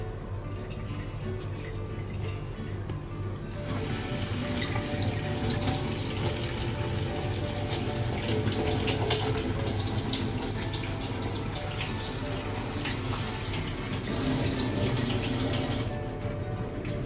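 Tap water gushes while a fish tank is being cleaned, a steady, loud splashing rush that runs continuously for most of the stretch before easing off near the end.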